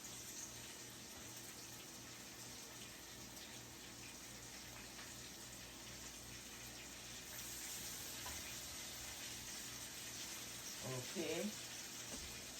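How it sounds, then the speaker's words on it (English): A kitchen tap runs steadily while someone washes their hands at the sink during cooking, a constant close hiss of water with a brief splashing flurry near the end and one short spoken word. "Let me wash my hands."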